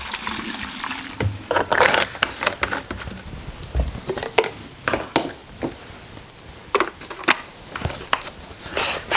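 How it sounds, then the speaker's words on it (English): Straight gasoline sloshes and splashes inside a STIHL MS290 chainsaw fuel tank being rinsed out, irregular bursts of liquid swishing and pattering close up, with quiet gaps between shakes. "All I will do is rinse out the fuel tank with some straight gas."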